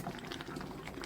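Chopped tomatoes simmering in a covered pot without added water for homemade tomato sauce, a soft, steady bubbling and fizzing throughout, close but quiet.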